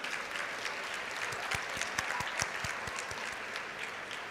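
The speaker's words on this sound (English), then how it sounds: "Big round of applause." Audience at a university convocation ceremony applauding steadily, a dense wash of clapping with distinct sharper claps standing out, moderately distant and without speech.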